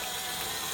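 Tap water runs continuously over raw liver in a sink, a close, steady gushing splash with no voices.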